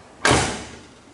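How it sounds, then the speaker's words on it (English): A 1966 Chevrolet Chevelle Super Sport passenger door shuts once with a solid, close thud that fades over about a second, alone with no talk. "passenger side door opens and closes with ease"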